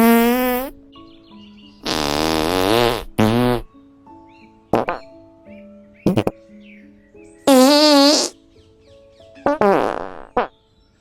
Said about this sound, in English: a digestive system that's basically a fart factory